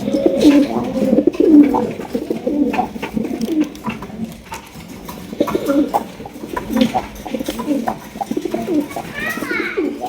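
A pair of brown chila pigeons coos up close in soft, throaty, repeated phrases, with faint voices and background noise between the calls.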